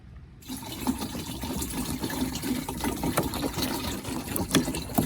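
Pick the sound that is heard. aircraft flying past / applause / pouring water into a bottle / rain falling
pouring water into a bottle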